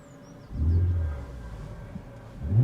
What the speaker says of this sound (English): I'll start the car so you can hear it